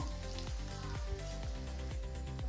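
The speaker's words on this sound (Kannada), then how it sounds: "ನೋಡಿ ಈಗ ಒಗ್ಗರಣೆ ಆಗಿದೆ" Spice tempering for temple-style khara pongal crackles and sizzles steadily in hot oil, close and even, with soft rhythmic stirring knocks about twice a second.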